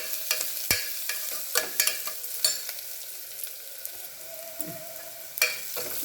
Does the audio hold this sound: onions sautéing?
yes